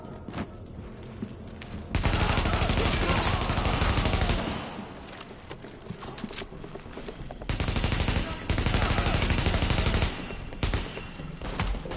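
Heavy gunfire in The Division on PS4, sustained bursts of automatic weapons fire in loud dense volleys with brief pauses between, alone without talk.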